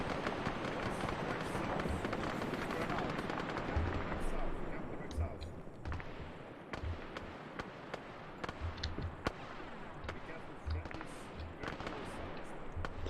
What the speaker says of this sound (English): Shots right, shots right.